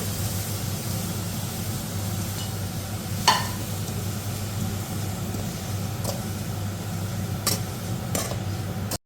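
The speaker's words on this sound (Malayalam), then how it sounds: "തണ്ണിമത്തങ്ങയുടെ തൊണ്ട് നമ്മൾ ചെറുതായിട്ടൊന്ന് വാട്ടിയെടുക്കാൻ പാത്രത്തിൽ കിടക്കുവാണ്" Watermelon rind softening in a pan on the stove, a faint steady sizzle under a low hum, broken by a few brief scrapes or clinks.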